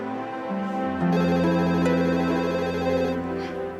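A telephone rings indoors in a home, with a melodic electronic ringtone pattern that sounds loud and close and plays continuously for several seconds without any talking.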